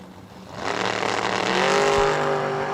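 A Camaro drag racing at World Wide Technology Raceway, its engine building from a low rumble into a loud, rising roar that holds strong to the end, close and alone with no talk.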